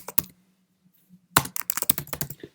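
Keys on a Mac computer keyboard are typed while composing an email: one isolated click, a quiet pause, then a quick run of close, crisp keystrokes.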